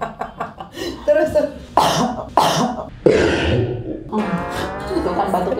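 A few short coughs and throat-clearing bursts break up a laughing, chattering conversation, sounding close and fairly loud amid the voices.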